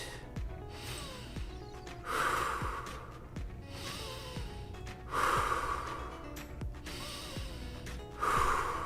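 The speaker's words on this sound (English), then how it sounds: "In with your nose, out with your mouth." Slow breaths drawn in through the nose and let out through the mouth during a karate home lesson, three long swells of airy breathing spaced a few seconds apart over a soft background.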